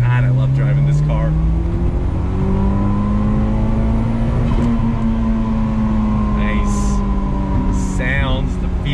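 1994 Toyota Celica GT-Four engine accelerating on the road, a steady rising drone heard from inside the car, with someone talking over it.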